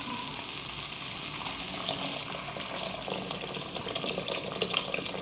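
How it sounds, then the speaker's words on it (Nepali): Water pours into a pan of sizzling masala for gundruk curry, a broad hissing, bubbling splash that holds steady for several seconds close by. "अब म यसमा पानी राख्छु।"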